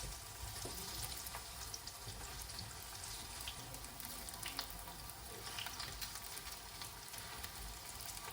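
Asparagus tempura fries in oil, sizzling and bubbling continuously at a low, even level, a soft crackling fry with occasional small pops and no talking.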